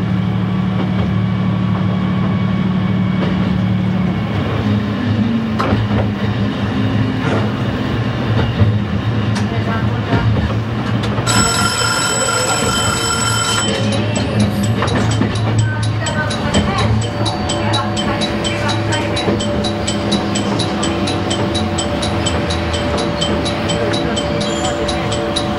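A Kisuki Line train in Japan rolls steadily along the tracks near Bingo-Ochiai station with a continuous low rumble and rhythmic clatter; a sharp metallic whine rings out partway through.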